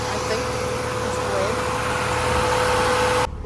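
A car engine idles steadily in a garage with the cooling fan running after the radiator has been bled, a constant hum and whir that cuts off near the end.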